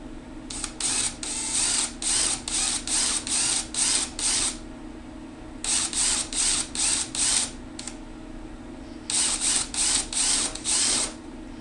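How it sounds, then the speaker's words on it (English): A worn drill bit bores into wood during a subwoofer enclosure build, coming as three runs of short, rhythmic bursts over a steady low motor hum, close and fairly loud with no talking. "And the drill bit I'm using sort of worn down a little bit, so it's not gonna grab the wood super hard and bite it in."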